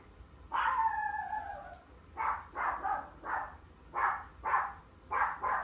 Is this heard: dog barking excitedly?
yes